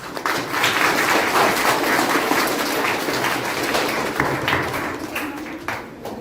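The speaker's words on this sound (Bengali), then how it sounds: "সেই প্রয়াসকে আমরা সবাই করতালি দিয়ে স্বীকার করব" An audience at a gathering honoring a small effort to keep girls from dehydrating breaks into sustained applause, a dense, fairly loud patter of many hands lasting several seconds.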